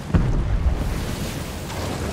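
A steady, loud roar and rumble of fire falling from the sky in a volcanic area of a video game, with a heavy boom near the start and a continuous low rush throughout, no speech.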